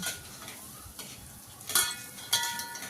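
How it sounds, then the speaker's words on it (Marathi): Rice grains dry-roasting and being stirred in a pan, a steady soft sizzling rustle with a few sharper scraping strokes near the end, close and moderately quiet with no talking. "आता मस्त लाया भाजून घेतल्या तांदळाच्या लाया झाल्यात"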